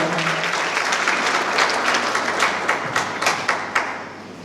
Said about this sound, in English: please put your hands together and give a big round of applause